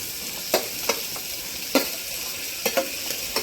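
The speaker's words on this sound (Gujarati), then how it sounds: "ખીચડીમાં સેજ સોતે કરી અને પછી મસાલા નાખી દઈશું" Vegetables for millet khichdi sauté in a pan with a steady close sizzle, broken by about half a dozen sharp spoon clicks and scrapes at irregular intervals. No one speaks.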